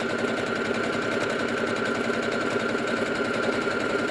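A sewing machine stitches up the side of a fabric medical mask with a steady, rapid mechanical whirring and ticking. The sound stays close and even throughout, with no talking.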